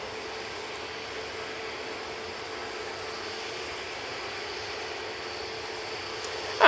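An airliner taxiing at Manchester Airport, heard as a steady, moderately distant jet engine whine and broadband rumble with no talk over it.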